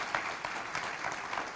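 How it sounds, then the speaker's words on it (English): An audience at a community anti-violence coalition launch celebration claps steadily for a brief moment, a dense wash of applause with no voices. "give them another round of applause"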